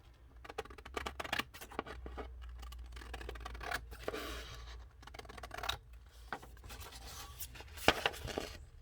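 Quiet scissors trimming paper for a papercraft page, a series of soft snips and scratchy paper rustles in an irregular rhythm, close and faint, with no speech.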